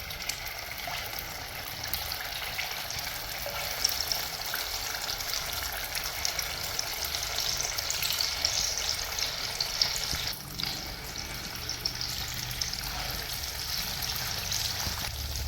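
Kannur appam (white karappam) batter fries in hot oil with a continuous bubbling sizzle that holds steady at moderate loudness, with a few faint clinks.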